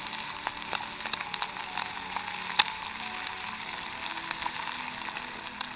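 Eggs fry in a pan over a small campfire outdoors, a steady crackling sizzle with sharp spitting pops scattered throughout, close and continuous with no talk.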